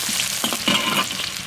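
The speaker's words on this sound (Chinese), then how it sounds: "锅里倒点油，油后下入葱姜蒜末干辣椒" Scallion, ginger, garlic and dried chili are stir-fried in hot oil in a wok, crackling and sizzling loudly throughout, with short bursts of a spatula scraping and tossing the aromatics.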